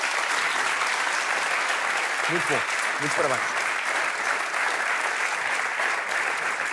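A studio audience applauds a performer on a television music show, a dense, steady wash of clapping throughout, with a host's voice speaking briefly over it.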